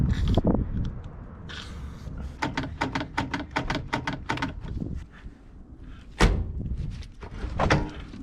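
The freshly lubricated door of a 1961 Chevrolet Parkwood wagon, long abandoned, swings back and forth: a run of sharp, close clicks and latch knocks, then a hard slam, all heard alone.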